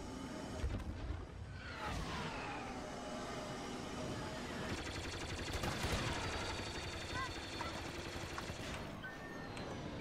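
Rapid bursts of starfighter blaster fire during a Star Wars Battlefront 2 Starfighter Assault space battle ring out over a constant engine roar and busy effects, with sweeping whooshes from passing ships and talk mixed throughout.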